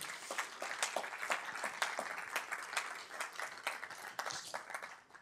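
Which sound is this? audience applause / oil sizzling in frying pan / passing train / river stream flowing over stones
audience applause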